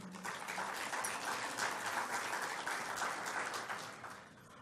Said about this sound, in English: Please give a warm applause for His Excellency